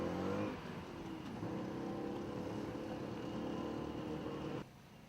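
Tuk-tuk motor running through a Cambodian town, a steady droning engine with road noise that cuts off abruptly near the end.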